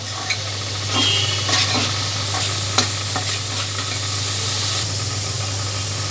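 Vegetables sizzle steadily in a hot pan while cooking Chinese pulao, with a constant hiss and a few scraping stirs of a spatula over a low steady hum.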